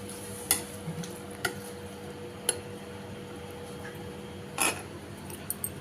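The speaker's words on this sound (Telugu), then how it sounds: "ఇలా అంతా మిక్స్ చేసుకోవాలి" A spoon scrapes and clinks against a pressure cooker in scattered strokes while a curry mixture stirs and sizzles softly underneath, with no voices.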